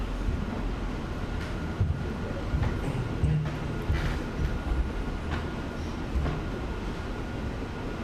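A train rumbles past in a steady, loud roar of rail noise with rattling wheels and wind buffeting the microphone, continuous throughout with scattered clanks.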